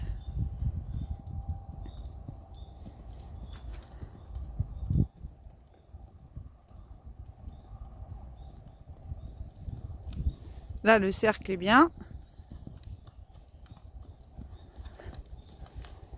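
Rhythmic horse hooves thud at a canter on soft ground during a dressage test while a person talks over them; a brief scraping clatter comes midway.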